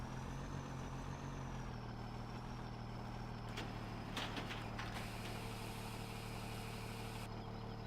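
Tractor engine idling steadily in Farming Simulator 17 while a trailer is emptied, a continuous low drone with brief rattling bursts from the unloading mechanism partway through.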